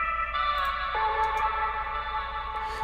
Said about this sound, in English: I'm using this plugin called Endless Smile, which is a Buildup plugin, actually. We're actually using it as a reverb.